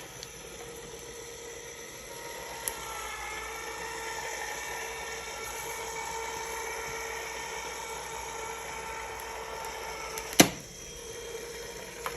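A heat tool blows hot air over a watercoloured handmade card, a steady whirring drone with a high whine held throughout, close and fairly quiet, broken by a single sharp click near the end, with no speech.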